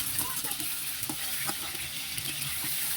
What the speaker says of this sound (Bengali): আমি চিকেন বলগুলোকে এখন হালকা করে একটু ভেজে নেব